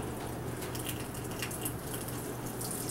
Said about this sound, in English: rinse the slide butt end down with a little gentle stream of water